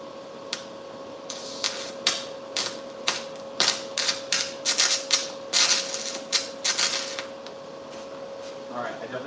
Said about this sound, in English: I'm trying to show you how to stick weld aluminum